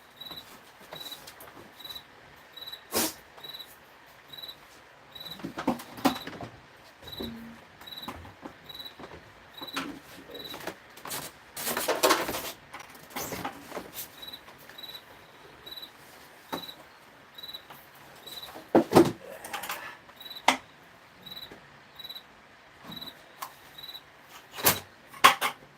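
Crickets chirp in steady, evenly spaced pulses through a quiet indoor space, while scattered knocks and small handling clicks break in now and then at close range.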